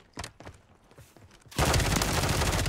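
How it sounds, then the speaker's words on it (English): A precision airstrike lands in a battle-royale video game, with a sudden, sustained roar of explosions and rapid gunfire-like bursts. It begins after quieter scattered pops and keeps going loud and dense to the end. "Oh, wow, a precision airstrike?"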